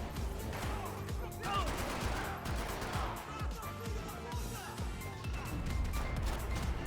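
Video game shootout in stadium stands, dense rapid gunfire with repeated sharp bursts and crashes throughout, under a talking voice.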